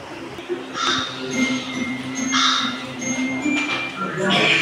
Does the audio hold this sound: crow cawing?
yes